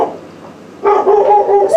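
A pet dog barks in an apartment as her owner comes home, a short burst of loud, close yips and barks after a quieter moment.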